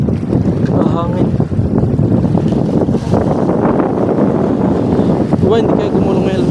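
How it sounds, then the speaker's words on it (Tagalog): Strong wind buffets the microphone on a fishing boat, a continuous loud rushing roar with water and voices mixed in beneath it. "Hangin."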